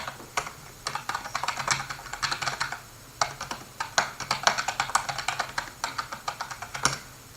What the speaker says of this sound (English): And we'll go in and type.